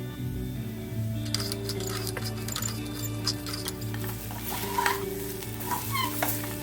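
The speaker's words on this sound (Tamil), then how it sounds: "இந்த பொடி சேர்த்து ஒரு 5 நிமிஷம் அப்படி கிண்டிட்டுருங்க சிம்மிலே வச்சு" Ivy gourd fry with spice powder is stirred in a pan over a low flame: a soft, steady sizzle with repeated scraping and tapping of the spoon against the pan.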